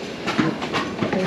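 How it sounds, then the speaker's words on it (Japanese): A New York subway train on the 1 line pulls into City College station, its steady rolling rumble and rhythmic wheel clatter continuous and close throughout, with no voices over it. "1番の電車ですね"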